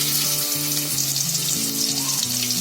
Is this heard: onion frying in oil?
yes